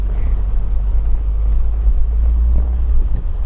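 Peugeot 205 GTI engine under way, a loud, steady low rumble and drone from inside the car, with a little wind and road noise and no talking.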